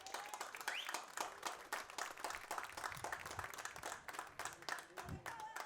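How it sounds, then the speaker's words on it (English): Spectators at a high school girls' softball game between the Weslaco Lady Panthers and San Benito Lady Greyhounds clap in a scattered, sustained patter, fairly faint and distant, while an announcer talks over it. "Everybody clapping for Elisa."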